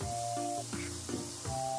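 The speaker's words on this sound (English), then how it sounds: "Oh, that one is a big fizz." A homemade dinosaur egg bath bomb fizzes in water with a continuous bright hiss and spray, close and fairly loud, while sustained tonal sounds run underneath.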